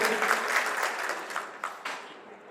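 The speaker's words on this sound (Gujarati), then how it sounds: "તાળીઓના ગણગણાટથી વધારીશું" A short burst of crowd applause at a community hall gathering, many hands clapping steadily before tapering off into a few scattered claps.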